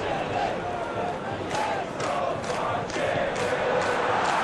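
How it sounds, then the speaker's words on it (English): Stadium crowd in a PES football video game match between the USA and Brazil, a dense continuous roar with swelling chants and cheers pulsing through, while a commentator's voice runs beneath. "The crowd appreciates good football all round there"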